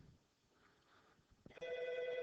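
An electronic telephone ring begins near the end, steady and fairly loud after a quiet stretch.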